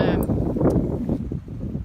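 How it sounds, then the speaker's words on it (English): Wind buffets the microphone with a low, rumbling roar, and a voice talks faintly underneath. "It's awful windy today"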